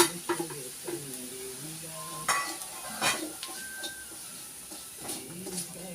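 Spice mix of black pepper, Kashmiri chili powder, turmeric and coriander powder being stirred and sautéed in a pan, soft sizzling under scattered scrapes and clinks of a spoon against metal.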